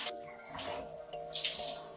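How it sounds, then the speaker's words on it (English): Water running quietly while shampoo is rinsed out of hair in a wash, a faint continuous splashing hiss with soft shifting spatter. "I'm gonna go rinse this out now"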